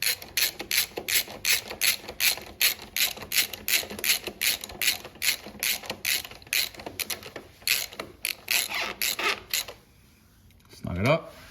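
Rapid ratcheting clicks from a ratchet driving a 5mm Allen bolt on a Honda CBR650R tail mount, steady close bursts of pawl clicks for about ten seconds, then a short pause.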